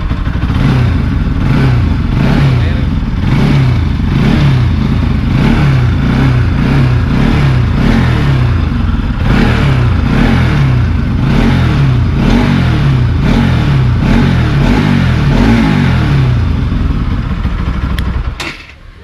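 A Bajaj Pulsar NS200 motorcycle engine idles loud and close, with repeated rhythmic blips of the throttle rising and falling before it cuts off at the end.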